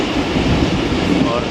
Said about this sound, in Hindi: कर्व होती हुई ट्रेन